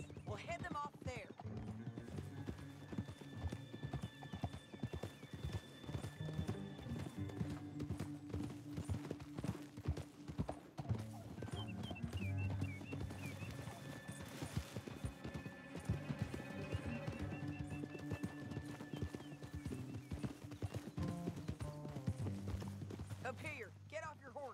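Horses gallop with steady clip-clop hoofbeats in the video game Red Dead Redemption 2, with occasional whinnies, a musical score underneath and characters talking over the hooves throughout.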